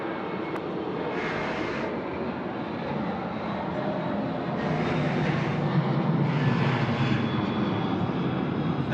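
Virgin Australia jet departing Sydney Airport, a steady broadband engine roar holding throughout and swelling louder in the second half, heard from a distance with no voices.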